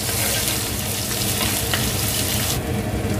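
Ginger garlic paste frying in a pan for a Kerala-style fish curry gives a dense, loud, continuous sizzle close up, with no talk.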